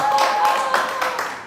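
A man claps his hands in a quick, even rhythm of about six sharp claps close by, with a voice faintly present behind them.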